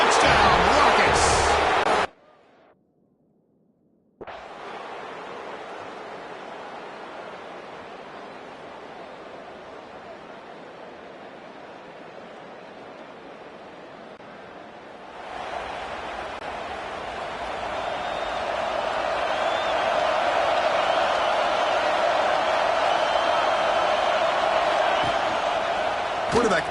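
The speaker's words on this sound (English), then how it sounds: "This crowd is trying to inspire this defense to make a big red zone." A football stadium crowd roars at a playoff game, a wide, hissing wall of noise that briefly cuts out, returns steady, then swells louder and fuller for the final stretch.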